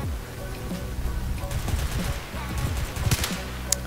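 Gunfire rings out in the Roblox shooter Oof Brigade, with rapid, overlapping shot bursts and cracks that come in clusters over a busy game background.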